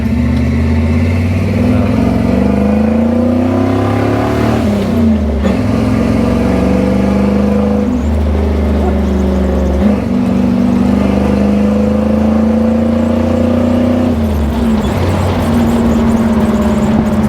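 A V8 Jeep CJ5 revs and pulls while driving, its loud engine rising in pitch through the gears with a dip around a downshift before climbing again, steady and close throughout with no voices.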